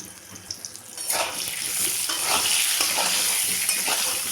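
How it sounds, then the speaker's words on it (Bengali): Eggplant frying in hot oil for a simple Bengali fish curry with potato, eggplant and bori, a steady close sizzle and crackle that swells after the first second and holds loud to the end, with no talk. "খানিকটা তেল গরম করে বেগুনটাকে ভেজে তুলে নেব"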